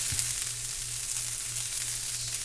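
Fried rice sizzles steadily in a hot pan as it is stirred, a close continuous crackle with a faint low hum beneath.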